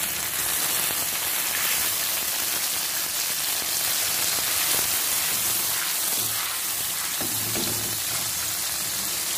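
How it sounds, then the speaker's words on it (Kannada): Leafy greens curry is poured into a hot garlic tempering, raising a loud, continuous hissing sizzle that stays strong throughout, with a few bubbling gurgles toward the end. "ಈಗ ಸಾರು ಹಾಕ್ತಾ ಇದ್ದೀನಿ"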